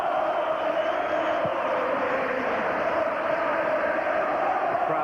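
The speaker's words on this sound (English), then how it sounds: "Crowd volume levels around Ibrox rise again" A football crowd roars at Ibrox during the 1996 Rangers v Celtic Old Firm derby, a dense, sustained wall of distant chanting and shouting that stays loud throughout.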